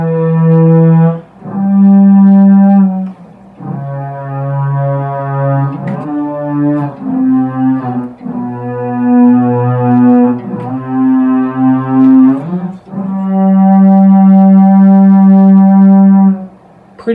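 Boss guitar synthesizer pedal on its pad setting, sustained harmonically rich synth tones shifting through a slow sequence of held chords and notes, loud and close with brief gaps between phrases, no talking.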